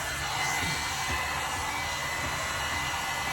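A handheld blow dryer runs steadily while drying frizzy hair, its close, continuous roar with an airy hiss holding at an even level throughout and no voices over it.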